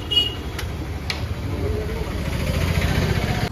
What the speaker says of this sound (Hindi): इंजन का साउंड एक बार सुन लीजिए